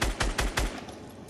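Rapid burst of four sharp gunshots in the video game Fortnite, evenly spaced and punchy with deep low thumps, followed by a brief fading tail.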